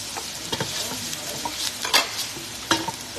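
Ginger and garlic fry in a hot pan with a steady sizzle, broken by several sharp scrapes and clicks of a stirring utensil against the metal.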